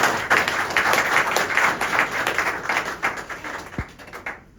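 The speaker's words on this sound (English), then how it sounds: "That deserves a round of applause." An audience gives a round of applause, a moderately loud burst of many hands clapping that thins toward the end.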